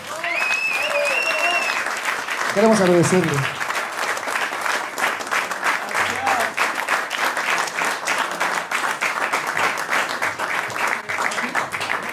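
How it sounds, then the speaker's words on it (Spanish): A concert audience at a music masterclass gives loud applause for the maestro, steady crowd clapping that runs throughout, while a voice speaks briefly near the start over it. "Por favor, fuerte el aplauso para el maestro."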